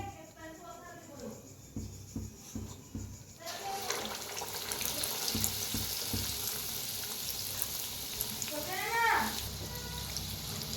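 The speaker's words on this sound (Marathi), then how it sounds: "छान तळून घ्यायचं दोन्ही साईडने" Vadas frying in hot oil and being turned to cook on both sides, a steady crackling sizzle that swells louder partway through, with light clinks and a voice talking over it.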